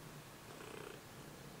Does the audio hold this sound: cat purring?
yes